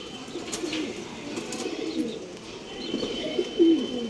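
Pigeons coo softly in low repeated phrases, close by in a quiet space, with a faint steady background hum and no talking.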